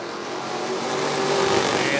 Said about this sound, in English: Green flag, and we're racing.